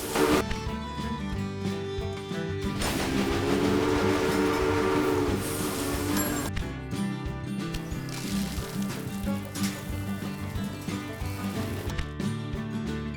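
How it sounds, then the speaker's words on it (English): Steady rumbling of a train running along the track in the video game Railway Empire, with a long whistle-like tone swelling in the middle, continuous and fairly loud throughout. "there will soon be 2 trains traveling on the stretch of track between Omaha and Norfolk"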